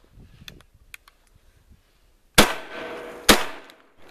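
Two loud, close shotgun blasts from a short Century Arms SPM-12 coach gun fired one-handed outdoors, about a second apart, after a stretch of faint rustling and handling clicks.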